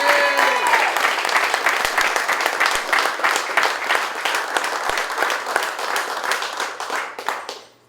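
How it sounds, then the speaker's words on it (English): A crowd at a sports championship celebration breaks into a round of applause, dense steady clapping with sharper individual claps standing out, sustained for several seconds before trailing off abruptly. "I think he deserves a round of applause."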